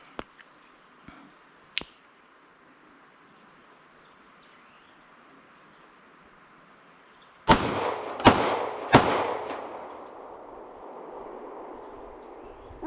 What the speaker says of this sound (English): Shoot it a couple of times. And shoot it a couple more times.